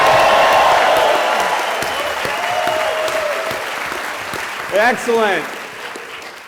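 An audience at a celebration event in Kauai applauds loudly with some whoops. The clapping fades as someone speaks over it, followed by a brief cheer near the end.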